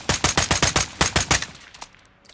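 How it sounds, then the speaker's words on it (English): FTAC Recon semi-automatic rifle in Call of Duty Modern Warfare II fires about ten loud, rapid shots in a steady rhythm, then a couple of fainter scattered shots trail off at the end. "As you can see, it shoots not the fastest, but it has a real fast fire rate compared to the EBR now."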